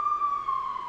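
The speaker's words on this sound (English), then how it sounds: "wait for that fucking police car to drive by" Police car siren heard as a single steady tone that slowly slides down in pitch as it passes, loud and clear with no talk.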